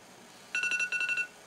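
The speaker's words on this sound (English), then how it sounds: "Yep, there's the timer." A timer alarm goes off with a bright electronic beeping, two quick bursts of four rapid tones each, loud over faint steady background noise.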